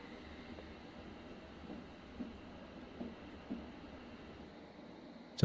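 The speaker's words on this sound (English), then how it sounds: "Sounds like another train." A train rumbles past in the Train Simulator Classic game on London's Metropolitan Line, a low, steady, fairly faint roll that carries through most of the span with a few soft knocks and a louder thump at the very end.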